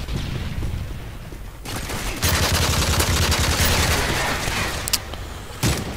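Gunfire in Call of Duty: Modern Warfare 3 multiplayer: a dense, loud burst of shooting that swells after a quieter opening, with a couple of sharp isolated cracks near the end and no speech.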